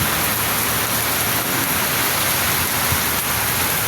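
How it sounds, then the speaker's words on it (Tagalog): Heavy rain pours down steadily on Loyola Street in a dense, hissing roar that never lets up. "Ang lakas ng ulan guys."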